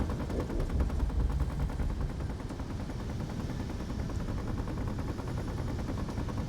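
Steady rapid weapons fire in the Space Engineers video game, a continuous loud rattling stream of shots with a low rumbling bed underneath and no talk.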